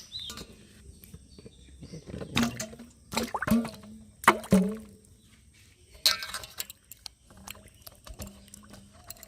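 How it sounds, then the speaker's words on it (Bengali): Guavas being rinsed in water, with irregular splashes, drips and clinks of fruit against a bowl coming in short bursts, close by and moderately loud, with faint voices in the background. "প্রথমে আমি পেয়ারাগুলোকে ধুয়ে নেব"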